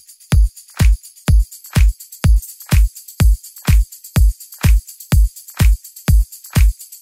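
Programmed tambourine hits from the drum section of a dance track, with a steady even pulse of about twelve bright, jangly strikes, each with a low thump under it, and no voices.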